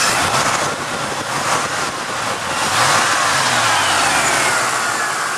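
The 5.0 liter, 302 cubic inch EFI V8 of a 1988 Mercury Grand Marquis revs up and falls back several times, loud and close, its pitch swinging between idle and higher engine speeds with no voices present.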